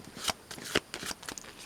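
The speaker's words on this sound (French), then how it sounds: "Je prends une carte pour vous pour la journée du 30 juin" Oracle cards are shuffled in a few quick, crisp riffling bursts, close and fairly quiet, with no voice.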